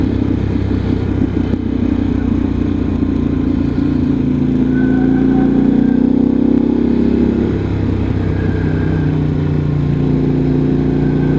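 A Moonshier 28 motorcycle engine drones steadily from onboard as the rider rolls gently into the throttle through dark corners at night, a continuous loud hum with slight rises in pitch and no talking.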